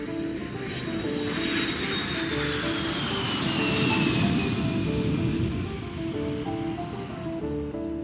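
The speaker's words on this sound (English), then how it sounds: "Ladies and gentlemen, welcome aboard. We are preparing for takeoff." A fixed-wing airplane's engines drone loud and steady while it prepares for takeoff, a broad rushing roar that swells in the middle and carries a slowly falling whine.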